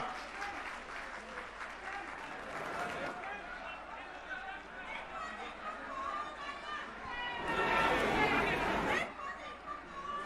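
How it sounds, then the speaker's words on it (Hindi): Rally crowd in Delhi applauding to welcome Sanjay Singh of the Aam Aadmi Party, steady loud clapping with chatter that swells to a stronger burst near the end. "जोरदार तालियों से स्वागत करिए संजय भैया का"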